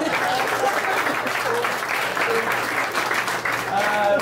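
An audience claps at a stand-up comedy show, a dense, sustained burst of applause that holds steady throughout with no voices on top.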